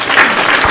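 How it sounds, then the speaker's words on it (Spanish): Brief burst of applause from an audience, dense and steady for under a second, with no voices on top. "Vamos a dar un aplauso por él"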